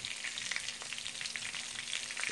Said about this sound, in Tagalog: iikot lang din natin tong ating piniprito